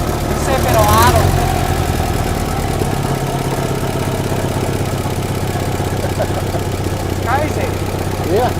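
A 1964 International Harvester Scout, abandoned for about 40 years, idles on its first start with a steady, rough mid-pitched engine hum. Brief voices and a couple of faint squeaks come through over it.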